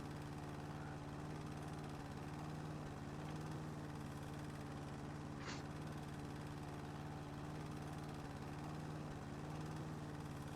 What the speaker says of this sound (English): Alright, now we're mowing.